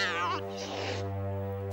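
A cartoon cat gives a single drawn-out meow that rises and falls, followed by a brief strained yowl, close and fairly clear over a soft background tone.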